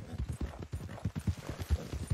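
A horse gallops in Red Dead Redemption 2, its hooves drumming in a quick, steady clip-clop rhythm, close and moderately loud, with no talk over it.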